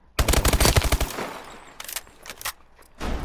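A submachine gun fires in Call of Duty Advanced Warfare: a rapid, loud burst of about a dozen shots, then scattered quieter impacts and shots, and a fresh burst starting at the end.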